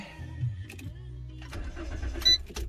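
A car's starter cranks briefly while the engine, cut off by a GPS tracker, fails to catch, giving a short whirring grind with clunks that ends without the engine running.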